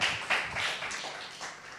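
Applause from an audience at an Indonesian political speech, a short burst of many hands clapping at moderate volume that fades over a couple of seconds.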